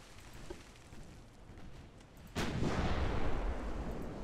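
Naval 7-inch gunfire in the warship game Ultimate Admiral Dreadnoughts: after a quiet, murmuring stretch comes one sudden heavy boom that rolls on as a loud, rumbling blast.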